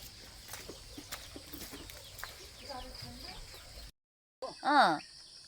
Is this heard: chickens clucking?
yes